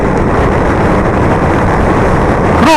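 Loud, continuous Aprilia Caponord motorcycle engine roar, a dense steady growl throughout with a brief rising whine at the very end.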